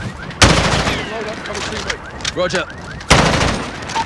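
Heavy gunfire in Call of Duty Modern Warfare during a US Embassy siege, two loud sharp volleys standing out over radio chatter and battlefield noise, with soldiers speaking between the shots.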